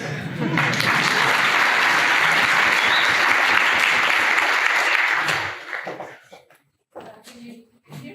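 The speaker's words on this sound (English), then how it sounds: "So, clap your hands." A keynote audience breaks into loud, dense applause that holds steady for about five seconds, then stops abruptly, leaving a few quiet scattered sounds and low murmurs.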